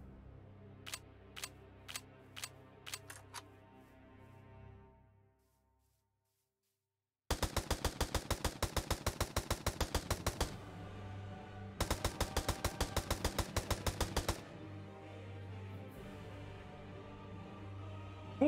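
Minigun fire in Minecraft: several spaced single shots, a pause of silence, then two long, dense, rapid-fire bursts with a steady buzzing rattle, loud and close.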